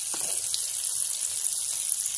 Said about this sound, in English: back to the frying